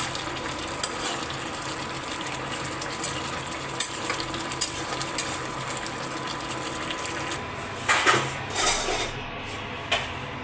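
Big-fish curry (chochchori) being stirred in a pot: a steady sizzle and bubbling hiss runs throughout, with a few scraping, clattering stirs near the end.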